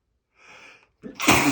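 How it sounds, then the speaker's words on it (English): A single close, loud human sneeze comes after a short sharp intake of breath, ending in a forceful burst. "I have to let one sneeze out."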